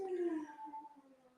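A dog lets out a single drawn-out whining howl that starts high and slides downward, then trails off into softer whimpering tones, fairly quiet and heard on its own.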